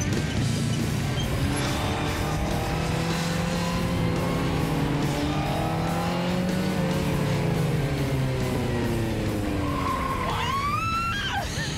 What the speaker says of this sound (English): So turn the red key up, push the black button, find first gear.